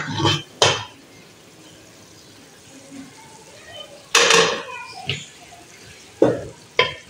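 A pressure cooker holding cooked mutton is opened on a low flame, giving sharp metallic clanks and scrapes of the lid and a brief hissing burst, separated by quieter pauses.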